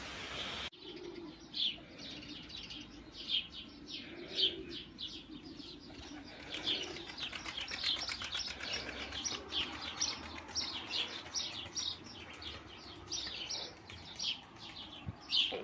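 A young pigeon gives repeated thin, squeaky peeping calls in irregular bursts, close by, over faint cooing and a low background hum.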